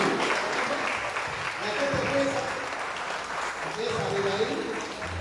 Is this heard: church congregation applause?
yes